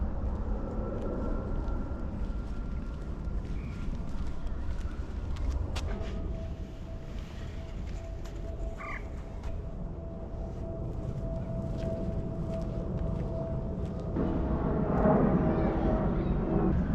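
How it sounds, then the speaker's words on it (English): A plane passes overhead above a wetland nature reserve in London, a continuous low roar rumbling loudly throughout and swelling slightly near the end, with faint bird calls beneath it. "it's very hard to immerse yourself when there's a plane going overhead every 3 or 4 minutes."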